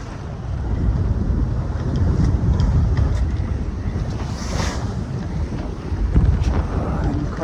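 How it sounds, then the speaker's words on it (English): Strong sea breeze buffets a Contessa 26 sailboat at sea, a steady loud rush of wind across the microphone over the wash of waves, gusting harder midway, with no voices. "it's quite breezy out here"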